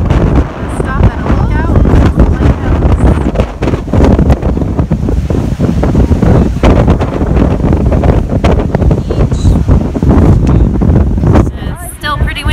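Loud, gusty coastal wind buffets the microphone nonstop, with a roar of surf beneath and a voice faintly breaking through the rumble.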